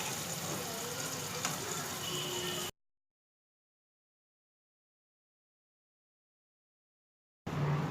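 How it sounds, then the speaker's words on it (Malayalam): Potato pieces sauté in hot oil in a pan, giving a steady close sizzle for a few seconds before cutting to silence, then a short louder burst of frying at the end. "അപ്പോൾ അതേപോലെ തന്നെ ഉരുളക്കിഴങ്ങ് ഞാൻ ജസ്റ്റ് ഒന്ന് വഴറ്റിയെടുക്കാൻ പോവാണ്"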